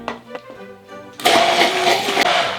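A food processor switches on abruptly after quiet clinking, whirring loudly and steadily as it blends meatball ingredients with olive oil, salt and pepper, then winds down near the end.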